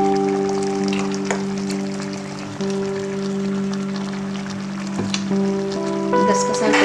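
Mutton tomato curry sizzles steadily in a pan after two tablespoons of poppy seed paste are stirred in, a continuous frying hiss with light bubbling, while a steady tonal hum runs underneath.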